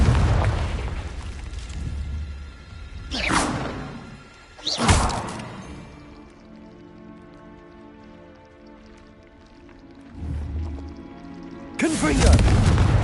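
Confringo blasting-curse explosions in Hogwarts Legacy go off as several loud, sharp booms spaced apart, each with a brief rumbling tail, over a quieter bed of game sound.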